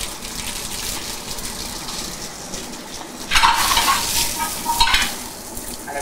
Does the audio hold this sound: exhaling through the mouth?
no